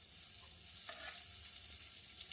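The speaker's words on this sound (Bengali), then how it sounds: "সেগুলোকে তেলের মধ্যে খানিকক্ষণ নাড়তে থাকলাম" Chopped garlic, ginger and chilli sizzling in hot oil, a close, steady frying hiss with a faint stir partway through, no voices.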